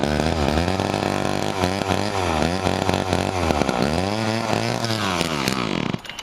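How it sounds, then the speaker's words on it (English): A Homelite XL2 chainsaw runs unevenly at half choke, its engine rising and falling in repeated surges and revs close by before abruptly cutting out near the end. "you can see how the saw runs"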